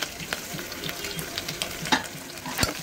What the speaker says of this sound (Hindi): अदरक लहसुन कूट रखी थी वो डाल रही हूँ।